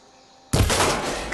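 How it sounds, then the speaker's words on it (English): A shot in Horizon Forbidden West blasting off a lock: a sudden loud burst breaks a near-silent stretch, followed by a sustained, noisy, crackling tail. "I need to shoot off the lock."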